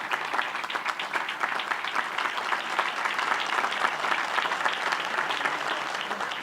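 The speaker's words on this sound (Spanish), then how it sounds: "Un fuerte aplauso, por favor." Audience applause at a Colombian congressional ceremony after President Gustavo Petro signs a document. Many hands clap in a sustained, even patter that holds at a steady level from start to finish, with no talking over it.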